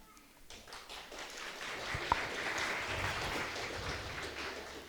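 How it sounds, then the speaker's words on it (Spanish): Wedding guests clap together at a marriage ceremony in a steady, moderately loud wash of applause with one sharp tap near the middle, continuing without a break. "demos Entonces, fuerte, palmas"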